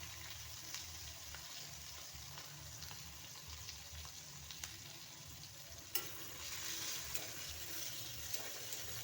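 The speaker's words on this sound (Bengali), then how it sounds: "প্রথমে আমি দেখুন সামান্য পরিমাণে একদম কালো জিরা ফোড়ন দিয়ে দিচ্ছি" Black cumin and a dried red chili temper in hot oil, making a faint, steady low sizzle that grows slightly fuller and brighter partway through.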